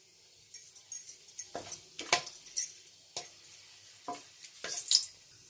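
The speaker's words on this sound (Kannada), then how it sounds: "ಎಣ್ಣೆ ಬಿಸಿ ಆದಮೇಲೆ ಚಕ್ಕೆ ಲವಂಗ ಹಾಕ್ಕೋಬೇಕು." Cinnamon and cloves dropped into two tablespoons of hot oil, giving a run of short, close crackling sizzle bursts with light clinks from a pan or spoon, and no voice.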